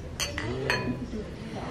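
Glasses clink together in a toast at a farewell dinner, three bright chinks close together, heard over the murmur of people talking.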